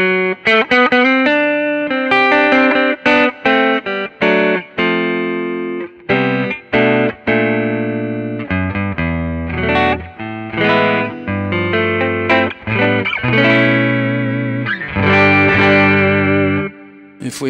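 An electric guitar on its neck pickup, Kinman SurfMaster Zero-Hum pickups in a Jazzmaster, played with chords and single notes, a warm, rounded tone with slight distortion and effects, continuous and fairly loud.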